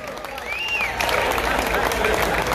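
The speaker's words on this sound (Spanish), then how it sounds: "para quien pida un fuerte aplauso para ambos" A festival crowd in Mayagüez at a tribute concert breaks into loud applause with cheering and whistles, a voice talking over the noise.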